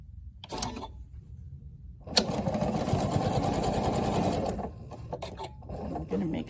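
A sewing machine stitches a quilt pinwheel to a large square, starting with a brief burst and then a steady whirring run of a couple of seconds, followed by quieter handling sounds and light clicks nearby.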